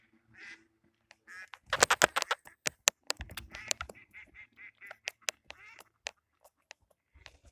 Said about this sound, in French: il y a des canards.